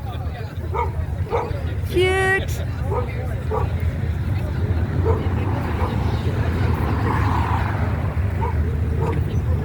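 Dogs barking at an outdoor protest, several short yips and barks, one sharp high yelp, spread through steady traffic rumble and crowd noise, with a person briefly speaking.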